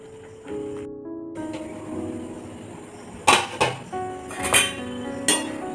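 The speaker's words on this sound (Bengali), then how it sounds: "এবার একটু ঢাকা দিয়ে রাখবো" A metal lid is set onto a pot of Maggi noodles with egg and butter, giving several sharp clinks and rattles near the end after a stretch of quiet simmering and handling noises.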